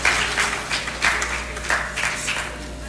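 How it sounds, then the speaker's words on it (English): Audience applause for a guest speaker at a patriotic rally event, a moderate wash of clapping that swells and ebbs in waves over a low steady hum. "Please, can we give Doctor a round of applause?"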